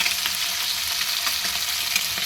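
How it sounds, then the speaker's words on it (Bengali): Amudi fish fry in hot oil in a pan, a constant close sizzle with crackling pops throughout and no talking. "এবার মাছ ভাজা আমার মোটামুটি শেষের পথে"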